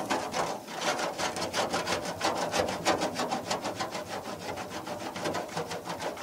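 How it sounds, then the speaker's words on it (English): A plastic scraper works decal residue off the door of an 84 Chevy C20 truck, producing a quick series of rhythmic rasping strokes, close and fairly soft, repeating steadily with no talk. "A nice little plastic scraper."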